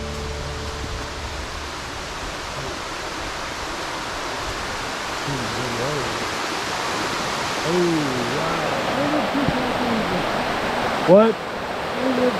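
Newt Falls in Linville Gorge gives a steady, broad rush of falling water heard from nearby along a trail, while a person speaks briefly over the constant roar.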